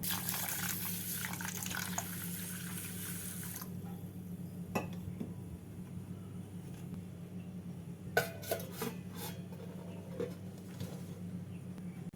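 Gobindobhog rice is washed by hand in water in a kitchen, with quiet sloshing and trickling and an occasional soft clink of a pot, all faint and continuous.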